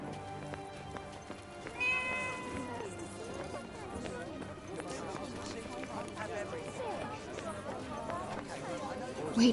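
A cat in Forspoken meows once or twice amid soft pattering footsteps, fairly quiet under ambient game music.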